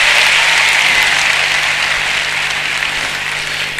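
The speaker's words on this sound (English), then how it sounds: "I want you to applaud and even more." A conference audience at an innovation keynote in Ankara breaks into loud, dense applause that fills the room as a continuous wash of clapping, tapering slightly toward the end, with no voices over it.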